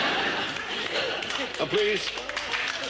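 A studio audience at the 1989 Blankety Blank game show claps in a light, continuous patter beneath the host's voice.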